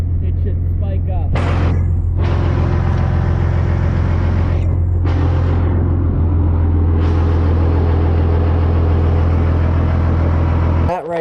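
A Cummins-swapped monster truck engine idles loud and close, a steady deep rumble that holds as the transmission is shifted into reverse, with a couple of brief clunks and higher-pitched bursts along the way.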